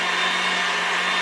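Electric hand mixer running at full speed while whipping egg whites for a fruit pavlova, a steady, loud continuous whir that holds without a break, with no talk.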